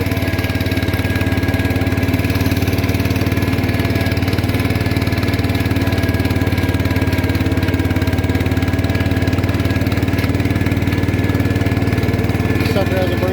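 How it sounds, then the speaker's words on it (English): A 1974 John Deere 140 H3 garden tractor with a brand-new rebuilt engine runs steadily nearby, a constant mid-pitched droning hum with no change in speed for the whole stretch. "This sucker has a brand new engine in it."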